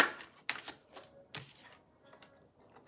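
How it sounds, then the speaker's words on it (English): Tarot cards being shuffled by hand, a series of quiet, crisp riffling bursts and soft slaps in an irregular rhythm, close and faint in a silent room. "It didn't come out, so I'll keep shuffling."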